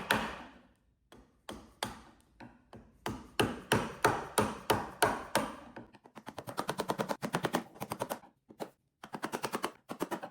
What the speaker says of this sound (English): so I'm gonna need to chisel this off.